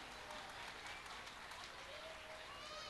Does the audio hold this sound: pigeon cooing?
no